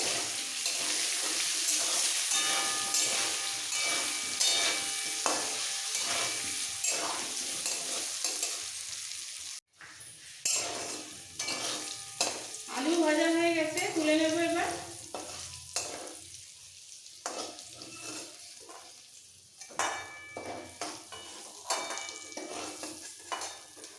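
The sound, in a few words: potatoes frying with red chili powder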